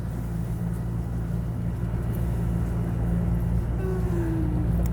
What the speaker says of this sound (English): Here on the subway, I love the sound of that.